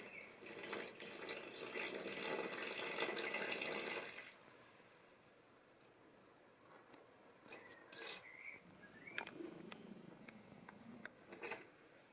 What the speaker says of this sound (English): And I'm going to put in 7 ounces, so that's just under half of water.